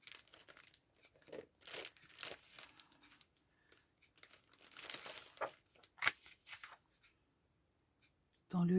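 Paper envelope and card-making scraps crinkled and shuffled by hand at close range, a run of light rustles and crisp crackles with short pauses between them and a sharper crunch near the end, with a voice speaking at times.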